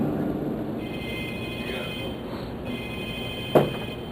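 Telephone bell ringing as a sound effect at a comedy club hypnotist show, a steady trilling ring through much of the clip over a room hum, ending with a short sharp knock.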